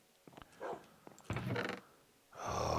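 A few short dog barks and snorting huffs from Minecraft dogs, close and moderately loud, arriving in separate bursts with brief quiet gaps between them.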